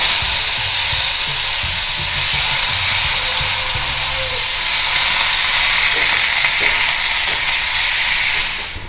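Cut brinjal hitting a hot pan already seasoned with red chilies and turmeric produces a loud, continuous hissing sizzle that holds steady throughout.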